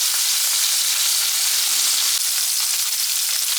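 Foli fish frying in a pan over high heat gives a loud, steady, dense sizzle that holds level and unbroken throughout, with no voices.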